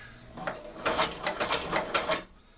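A Chinese sewing machine converted to electric power runs in a short burst, a fast rhythmic clatter of needle strokes that rises, holds for under two seconds and then stops, close and fairly quiet.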